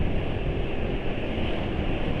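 Strong wind buffets a microphone beside a busy road, making a steady, loud, broadband roar with no voices.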